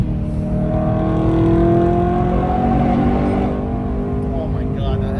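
An Infiniti G35 with a swapped S65 V8 engine revs loudly and close up with a deep, sustained, rising engine note that eases off toward the end.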